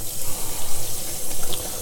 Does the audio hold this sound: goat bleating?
no